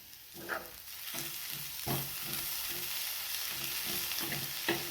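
Egg bhurji with plenty of coriander stirred in a hot pan, a continuous close sizzle broken by regular scraping strokes of the spatula, no voices.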